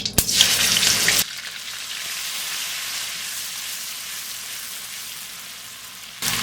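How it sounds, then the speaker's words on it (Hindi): Ginger garlic paste fries in a quarter cup of hot oil in a pan, a continuous hissing sizzle with louder, harsher bursts at the start and again at the end. "अदरक लहसुन की पेस्ट को अच्छी तरह से फ्राई करेंगे"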